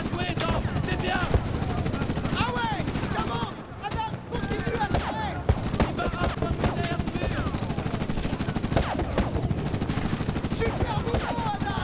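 Machine gun fire rattles continuously in Medal of Honor 2010, dense rapid bursts that run almost unbroken, with a brief lull midway, under shouted voices and battle noise throughout.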